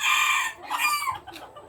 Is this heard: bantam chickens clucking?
yes